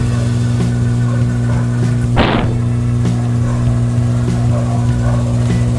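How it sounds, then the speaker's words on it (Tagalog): A scooter engine idles steadily after a change to Petron Sprint 10W-40 oil, a smooth, close, even hum with one brief burst of hiss partway through. "Pakinggan nyo yung motor, no, yung tunog ng makina."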